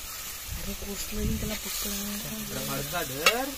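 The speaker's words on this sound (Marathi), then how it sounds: "हा बघा फोडणी देते पूर्णपणे." Soft sizzling and stirring of oysters in hot tempering oil, with a voice speaking over it throughout.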